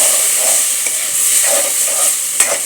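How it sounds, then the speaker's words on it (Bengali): Steady sizzling and frying of tomatoes, vegetables and rice in a pot for khichuri, with soft stirring scrapes and an occasional sharp clink over a continuous hiss. "চাউলগুলো অলরেডি দিয়ে দিচ্ছি দিয়ে টমেটোগুলো লাড়াচাড়ি দিতেছি"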